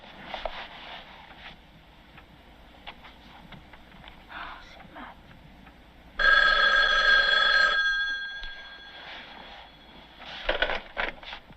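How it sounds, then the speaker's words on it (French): A loud telephone bell ringing abruptly in a 1979 horror film, one sharp burst of a couple of seconds breaking through quiet, low dialogue and room sounds. "l'amplification du son du téléphone quand celui-ci sonne pour nous faire sursauter"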